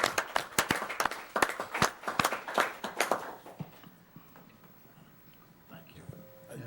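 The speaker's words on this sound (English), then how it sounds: "how about a round of applause?" An audience at a city council meeting gives a brief round of applause for donations, sparse clapping that fades out after about three seconds into quiet room noise.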